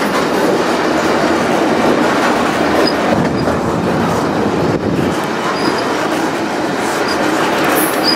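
A freight train rolls steadily along the rails through open Wyoming country, heard up close near the locomotive: loud, continuous rumble with rhythmic clickety-clack of wheels over the track and no voices.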